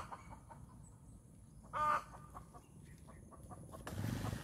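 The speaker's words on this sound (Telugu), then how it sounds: "ఇక్కడ కోడి చూడండి, దానికి 3 పిల్లలు ఉన్నాయి." A hen with three chicks gives a brief, faint clucking call amid green paddy fields and tall grass, set against a soft outdoor background hum.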